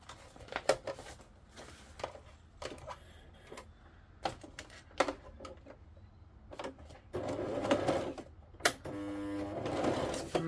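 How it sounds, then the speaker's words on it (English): A sewing machine stitching slowly down the edge of a thick handmade journal, short mechanical runs of rattling stitches separated by pauses and clicks, with a longer, louder run near the end. "Now I'm going to sew down this edge as well."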